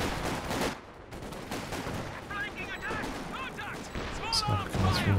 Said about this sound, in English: Oh, good shot from the ISG.